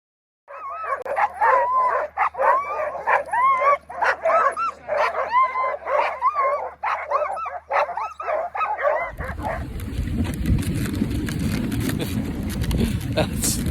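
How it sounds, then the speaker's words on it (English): Sled dogs bark, yip and whimper in a dense, continuous chorus for most of the stretch on a dog sledding run over ice and snow, then give way to steady rushing runner and wind noise; a voice is briefly heard. "I'm just going to show you a dog sledding experience"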